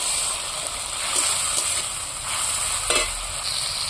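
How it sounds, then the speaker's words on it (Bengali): Tomato and green chili paste fries in a pan, a continuous close sizzle and bubbling hiss with a few soft stirring scrapes. "এবার টমেটোটা ভেজে নেব ভালো করে"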